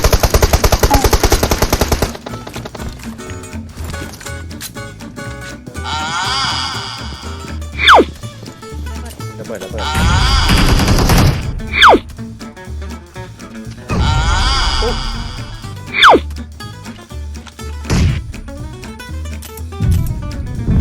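Automatic weapon fire in PUBG Mobile rattles out in several loud, close bursts separated by short pauses, with sharp single shots and whooshing effects between volleys.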